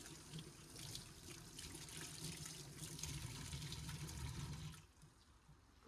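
Tap water runs steadily into a sink while a cloth is rinsed during DIY mould removal. The stream is close and fairly quiet, then drops off near the end.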